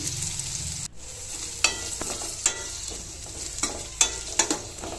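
Onions and curry leaves fry in a pan with a constant bright sizzle, broken by a series of sharp spatula scrapes and taps as they are stirred.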